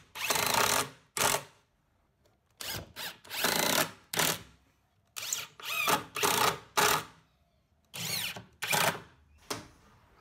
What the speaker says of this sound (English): The leg assemblies were then fixed to the table frame with screws.